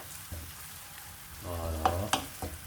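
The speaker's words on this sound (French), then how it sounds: "on fait un petit peu dorer les oignons avec des coriandres." Onions brown with coriander in a pan, a soft close sizzle with clinks and a scrape of stirring, rising in the second half.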